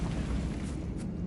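Bombarda blasting spell detonating in a Harry Potter video game, a dense, sustained rumbling burst that fills the whole short moment at close range with no pause.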